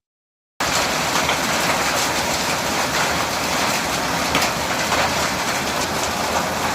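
After a moment of silence, heavy monsoon rain starts abruptly over a village and keeps up a constant, loud wash of noise.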